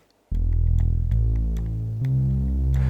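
A deep, sustained Taurus bass pedal tone recreated on a Diva synth, entering abruptly after a moment of quiet and shifting through a few low held notes, loud and close with no talk.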